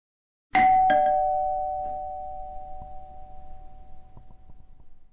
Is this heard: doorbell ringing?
yes